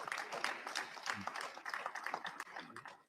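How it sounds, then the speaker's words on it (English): An audience at a business and investment conference in Jamaica applauds two female heads of agencies, many hands clapping in a sustained, moderately loud round that stays steady and then tapers near the end. "you need to give them a round of applause."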